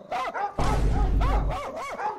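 A person imitates a dog's bow-wow barking: several short, rising-and-falling barks close by, with a loud rumbling thump in the middle of the calls.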